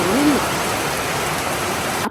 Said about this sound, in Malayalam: നല്ല കിടുക്കാച്ച് മഴയാണ് പെയ്തുകൊണ്ടിരുന്നത്